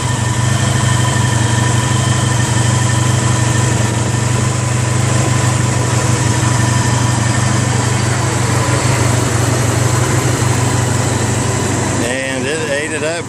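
A V4 motorcycle engine, just out of a full carburetor cleaning, runs at a loud, steady, high-pitched idle close by, its tone wavering briefly near the end.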